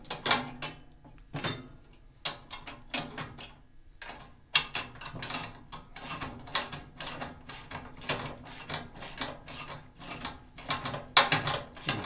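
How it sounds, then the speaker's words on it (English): A ratchet with a 1/2-inch socket snugs the bolts on a reassembled differential, giving close, crisp clicking bursts in repeated strokes separated by short pauses, with no talking. "It takes a 1/2-inch wrench and a small 1/2-inch socket. And you just want to snug these up."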